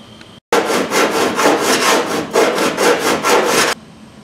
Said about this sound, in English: Now I need to try to file some of those welds down a little smoother